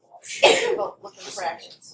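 A single sharp sneeze bursts out in an algebra classroom, close and loud, set among a student's spoken words.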